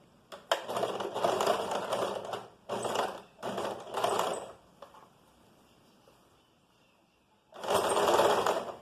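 A sewing machine sews a sleeve cuff seam at a one-centimetre allowance, whirring in several short stop-start bursts with a longer run at the end, close and without talk.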